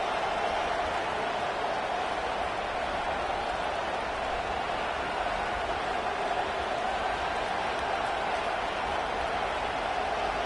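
Stadium crowd in a football video game, an unbroken wall of distant cheering and murmur that holds steady at moderate loudness with no individual shouts standing out.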